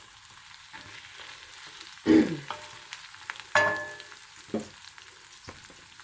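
Smothered pork chop gravy cooking in a small pot, giving a soft sizzle under a low background, with two sharper bursts of stirring or clatter and a few lighter knocks.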